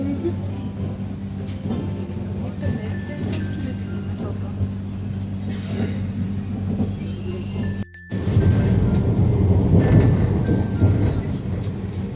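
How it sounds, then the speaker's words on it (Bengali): A train rumbles along its track with a low steady drone, and occasional rattles and clinks come from inside the swaying carriage. A brief cut near the end is followed by louder rumble, and people talk over it. "ট্রেনটা দুলছে ট্রেনটা দুলছে"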